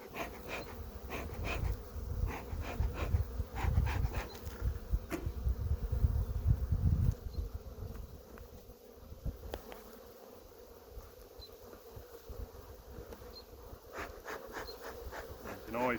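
Honeybees buzzing out of an opened hive during an inspection, a dense continuous insect drone close by, louder in the first half and easing later, with no talk over it.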